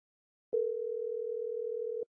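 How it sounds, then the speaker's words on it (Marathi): A telephone dial tone sounds as a single steady, clean tone for about one and a half seconds before stopping, with silence on either side and nothing else heard. "मामा, लावा त्या उमेशला फोन."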